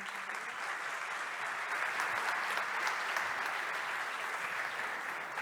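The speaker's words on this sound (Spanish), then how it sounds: "Así que les damos un fuerte aplauso" A conference audience applauding a panelist, steady even clapping from many hands held at a constant level throughout, with no speech over it.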